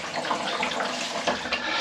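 Water rushes steadily through newly filled household plumbing, like a tap running full, a continuous close hiss with slight surges and no voices.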